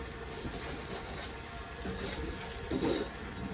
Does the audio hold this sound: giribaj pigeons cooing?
no